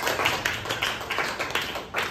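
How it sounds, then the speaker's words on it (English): Scattered clapping from a small group, a steady patter of hands at moderate volume with no voices. "Give her big round of applause"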